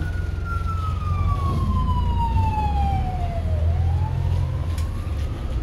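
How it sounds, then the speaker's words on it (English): An ambulance siren in Wellington, New Zealand wails with a long falling then rising tone, passing fairly close over steady low traffic rumble. "There's an ambulance."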